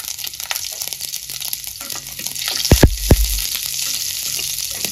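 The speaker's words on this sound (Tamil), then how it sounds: "கடுகு பொரிக்கிறது." Steady crackling sizzle of mustard seeds spluttering in hot oil, with a few louder pops and stirring clatters near the middle; no talking.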